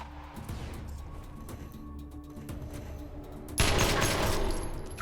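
Gunfire in the video game Wasteland 2 opens with a low background hum and scattered faint clicks. A sudden loud burst of combat noise then erupts and lingers for a second or two.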